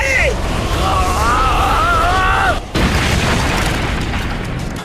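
A roaring explosion blast from a wind style attack in an anime fight, a loud, sustained rumbling boom with a brief dip before it surges on, mixed with a shouting voice.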